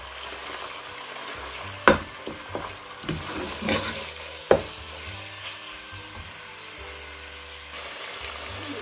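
Chicken fries in a pot over medium-high heat for Lahori chicken karahi, a steady close sizzle running throughout with several sharp clanks and scrapes from stirring early on.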